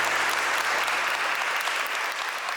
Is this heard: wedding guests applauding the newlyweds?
yes